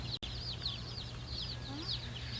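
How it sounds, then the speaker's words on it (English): Barred Rock chicks on their first day at home peep constantly in a busy chorus of high, repeated chirps, close by over a steady low hum, with a brief gap near the start. "we have our chicks. They are a little noisy right now."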